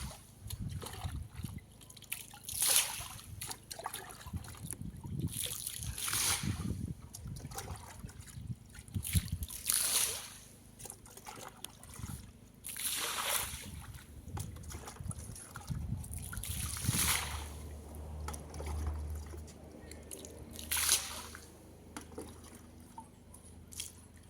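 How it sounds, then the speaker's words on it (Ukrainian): Liquid is poured from a bucket around the edge of a floating island, giving repeated splashing, trickling pours in irregular bursts, close and fairly soft, with some handling noise between them. "вливаємо по всьому периметру"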